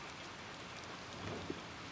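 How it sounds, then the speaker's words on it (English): Rain falls in the video game Little Nightmares 2, a soft, steady patter and hiss of drops with one brief louder drip near the end, faint and ambient with no speech. "Just a rainy day."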